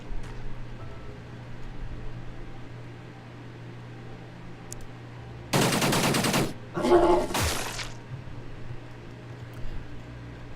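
Gunfire in the alien-combat strategy game Xenonauts: two short bursts of loud automatic fire over a low steady hum, with silence before and between them.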